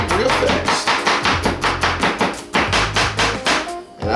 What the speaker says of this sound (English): I did want to at least show you how I like to split my celery